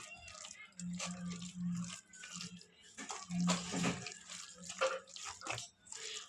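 Raw chicken pieces being washed under running water in a home kitchen while preparing chicken kebab, a steady splashing and trickling stream with brief louder gushes, close and moderately loud, no talking.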